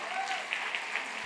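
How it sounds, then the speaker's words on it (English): An audience at an awards luncheon live auction applauds briefly, a soft, diffuse patter of clapping across the room with a few sharper claps poking through. "A round of applause for Jesus."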